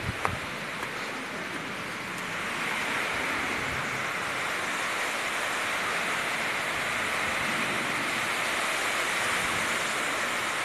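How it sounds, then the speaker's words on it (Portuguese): Steady rain falls outdoors at the onset of a shower under heavy clouds, a dense even hiss that swells after a couple of seconds and holds without voices. "Começou a chover."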